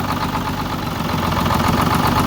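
An old engine runs steadily at idle shortly after its first start on a rescued vehicle with a suspected valve-seat misfire, a dense continuous rumble heard close up with no talking.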